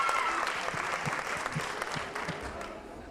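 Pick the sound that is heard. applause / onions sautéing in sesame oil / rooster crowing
applause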